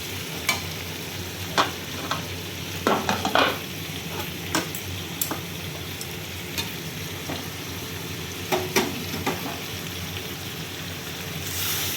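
Meat curry frying in oil that has begun to separate, with a continuous close sizzle and occasional scraping stirs, alone with no talk.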